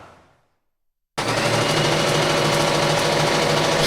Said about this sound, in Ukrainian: Щодня Анна працює за швейною машинкою